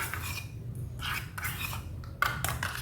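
A utensil stirs coffee face gel in a container, giving short scraping and clinking strokes against the sides in an uneven rhythm, close and clear with a low background hum.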